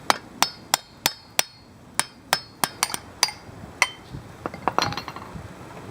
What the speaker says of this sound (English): So I'm gonna hit it with a hammer.